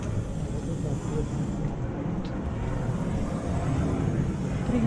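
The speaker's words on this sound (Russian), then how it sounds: "Самолет летает. Взлетает." An airplane climbing after takeoff over Rijeka, Croatia, gives a steady, broad low roar that holds at an even level for the whole stretch, sounding moderately distant rather than close overhead.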